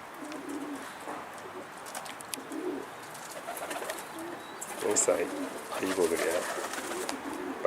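Pigeons coo softly in the background, mixed with rustling and faint voices nearby; the cooing is intermittent and low, rising slightly toward the end.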